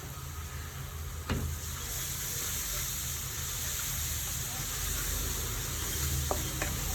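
Coconut oil sizzles in a pan of chicken being cooked into chukka, a steady close frying hiss with a few sharp clinks and stirring scrapes, no voices.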